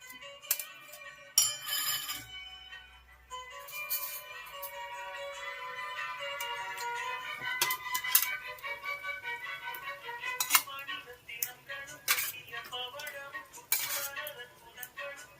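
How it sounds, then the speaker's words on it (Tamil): A metal spoon stirs curd into a pot of basmati rice for white pulao, giving a run of clinking and scraping strikes against the metal pot, some sharp and bright, scattered irregularly with ringing tones between them. "இப்போ நம்ம தயிர் ஊற்றிக்கலாம்."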